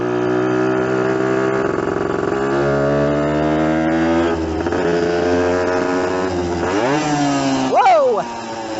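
An old Yamaha enduro motorcycle revs hard while being ridden, its engine note climbing and dropping through gear changes, loud and close, with a rider's voice mixed in.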